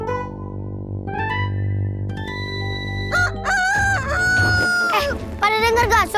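Rooster crowing in a staged Indonesian lenong comedy scene, a long loud cock-a-doodle-doo rising over a low bleating goat-like drone, with clucking squawks and busy stage noise following.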